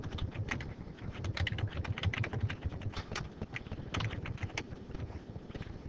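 Someone types into an Excel spreadsheet on a computer keyboard, producing a continuous patter of close, light key clicks with a few brief pauses.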